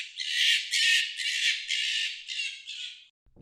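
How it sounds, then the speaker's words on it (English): A fox calls with six harsh, rasping squawks in quick succession, loud and close, each burst a little shorter than the last before cutting off abruptly. "The fox says,"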